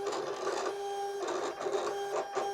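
Silhouette Cameo vinyl cutter cutting a monogram from vinyl: a quiet, steady electric whine with a sustained pitch, rising and falling in short bursts as the blade carriage moves back and forth.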